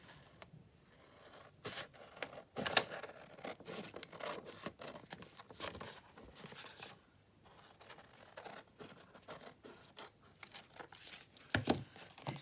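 Quiet, intermittent snips and scraping rustles come from paper being trimmed for a handmade junk journal, in short irregular bursts close up.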